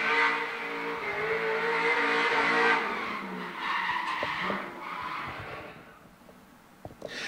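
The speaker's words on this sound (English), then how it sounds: "Atlan Norman certainly enjoying being behind the wheel of a V8 powered S15." A V8-powered Nissan S15 drifting in D1NZ Pro-Sport competition at Baypark Stadium, with loud sustained tyre squeal and skidding over a droning engine, surging and easing over several seconds before fading.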